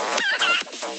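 A chicken clucks in a quick series of close, throaty calls over about a second, fairly loud and with no talking.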